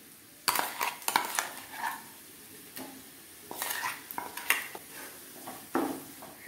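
A spoon scrapes and clatters in a pan as ground paste is stirred into fried shallots for a Goan prawn curry, uneven knocks and scrapes over a low sizzle, close by with no voices.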